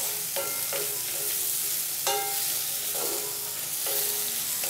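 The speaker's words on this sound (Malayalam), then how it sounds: "ഇപ്പോൾ നമ്മുടെ വറ്റൽമുളകും നല്ല രീതിയിൽ തന്നെ ഒന്ന് ഫ്രൈ ആയിട്ട് കിട്ടിയിട്ടുണ്ട്" Dried red chillies fry and sizzle in a pan for chammanthi, with steady crackle and several sharp scraping stirs of a spoon against the pan at irregular intervals; close and moderately loud, no voices.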